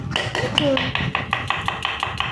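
A knife chopping onions on a board for momo filling, giving a steady series of about a dozen sharp, evenly spaced taps, close and fairly loud, with a faint background voice and kitchen noise.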